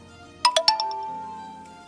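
Phone text message notification chime arriving from an Angkas motorcycle-taxi driver: a quick cluster of three or four bright ascending tones, fairly close and clear, with a faint ringing tail and no talk.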